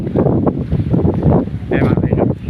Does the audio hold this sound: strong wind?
yes